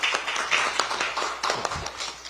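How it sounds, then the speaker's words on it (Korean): Scattered clapping from an audience at a Democratic Party appointment ceremony, a handful of sharp, uneven claps rather than full applause, with no speech over it. "큰 박수 부탁드립니다."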